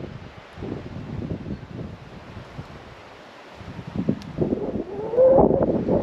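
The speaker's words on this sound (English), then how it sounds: "It's wind is picking up a bit." Wind gusting outdoors on a Swedish summer day, buffeting the microphone in uneven rushes that swell louder toward the end, with no voices over it.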